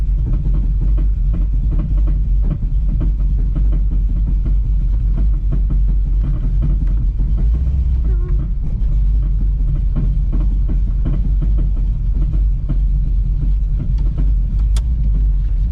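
A Mitsubishi 3000GT fitted with a big-block V8 drives along, its engine a continuous low rumble with road noise, steady and close throughout, with a brief sharp click near the end.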